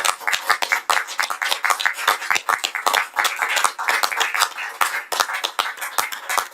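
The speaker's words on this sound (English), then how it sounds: "Can we all please give a round of applause to Councillor Bateson?" A room of attendees at a fire authority meeting gives a councillor a round of applause, with steady, moderately loud clapping of a modest group throughout.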